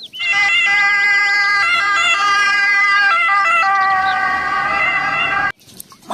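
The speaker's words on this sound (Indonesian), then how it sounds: "Wah, yang ini mobil ambulans." Toy ambulance siren wailing loudly and continuously, a rising and falling electronic tone held for over five seconds before cutting off abruptly, heard alone without talk.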